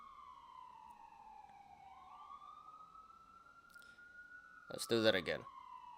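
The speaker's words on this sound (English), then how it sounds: "This ambulance decided to come out of nowhere." An ambulance siren wails steadily in the background outdoors, fairly faint and distant, before someone speaks briefly over it near the end.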